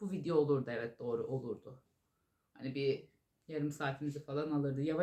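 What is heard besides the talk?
No everyday noise stands out behind the speech.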